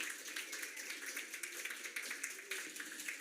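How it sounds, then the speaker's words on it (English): A short burst of steady clapping from a conference audience for panellists, close and lively, with no voices over it. "A round of applause for our panellists."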